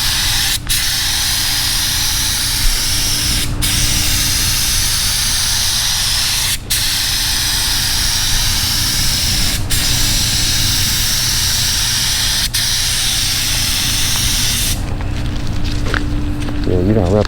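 Loud continuous hiss of a spray gun painting a car body, steady and close, with brief clicks as the trigger is released, and a softer sputter near the end.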